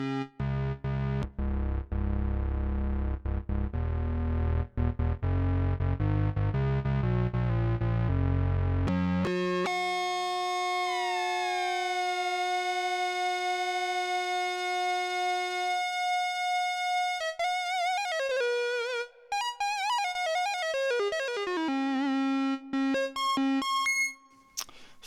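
A buzzy Moog MultiMoog analog synth plays low chords, then a sustained bright tone with rising, sweeping pitches and wobbling bleeps; loud, continuous, no voices.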